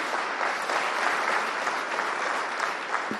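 Sustained applause from a large crowd at a state-level women's public awareness campaign launch, an even wash of many hands clapping at some distance, continuing without pause.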